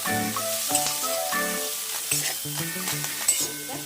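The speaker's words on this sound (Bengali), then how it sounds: "এবার আমি বেগুনটা দিয়ে দিলাম, কুমড়োগুলিও দিয়ে দিলাম আমি। এবার একটু নেড়ে নেব।" Eggplant and pumpkin sizzle and crackle in a hot pan while being stirred, with bursts of spattering and scraping strokes, close and fairly loud, with no voices.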